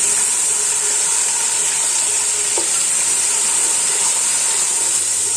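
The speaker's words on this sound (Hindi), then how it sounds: "अब हम इसके अंदर दही डालेंगे। दही डाल के हम इसको प्याज के साथ भूनेंगे।" Yogurt fries with onions in a pan, giving a loud, steady, close sizzle and hiss throughout with a brief stir partway through.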